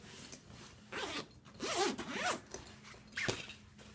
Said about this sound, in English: Make sure it's zipped up.